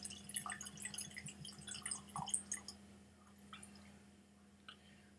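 Shelter Point whisky poured from a small plastic sample cup into a Glencairn glass makes a quiet run of close, light drips and splashes that fade to sparse trickles.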